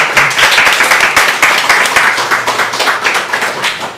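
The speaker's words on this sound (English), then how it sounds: "Give a round of applause for Michael." An audience at a tech summit applauds, dense and continuous clapping from many hands that stays loud throughout.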